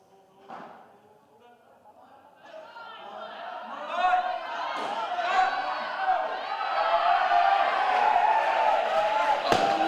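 A weightlifting crowd at the Tower OWNZ Champs 2019 swells from scattered chatter into sustained cheering and shouting as a lifter makes a third snatch attempt, building steadily louder, with commentary running underneath.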